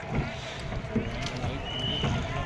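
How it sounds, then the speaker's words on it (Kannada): A boat travelling on the river at Triveni Sangam during the Maha Kumbh Mela at Prayagraj, a steady broad rush of water and wind noise with low rumbling throughout, no clear voices. "ತ್ರಿವೇಣಿ ಸಂಗಮದಲ್ಲಿ ನಾವು ಸ್ನಾ ಪವಿತ್ರ ಸ್ನಾನ ಮಾಡೋದಕ್ಕೆ ಬೋಟ್ನಲ್ಲಿ ಹೋಗ್ತಾ ಇದ್ದೀವಿ"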